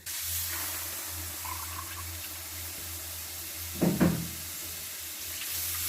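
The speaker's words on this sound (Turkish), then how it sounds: "İki su bardağı sütümüzü ekledik içerisine." Two glasses of milk are poured into a pan of flour on the stove, a brief close splashing pour near the middle over a steady kitchen hum and background hiss.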